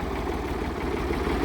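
A 1966 David Brown 880 Selectomatic, a 46-horsepower two-wheel-drive tractor, idling close by with a steady, low, throbbing engine rumble, even and continuous with no talk over it.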